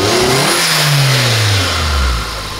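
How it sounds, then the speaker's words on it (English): Suzuki Jimny JB74 engine revving hard close by, its pitch rising then falling over a couple of seconds, with a hiss near the end that may be the blow-off valve releasing. "Pakinggan natin yung ano, yung blow off valve."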